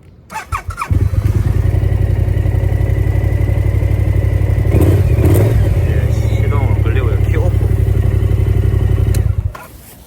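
A BMW C650 Sport maxi-scooter cranks briefly and catches, then idles loudly with a steady, rapid engine pulse for about nine seconds before cutting off, some clatter audible midway.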